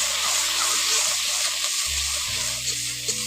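Spices and Kashmiri red chili powder frying in oil for a khesari dal curry, a steady close sizzle with soft stirring scrapes, no voices.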